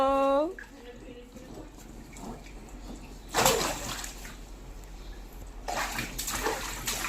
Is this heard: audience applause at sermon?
no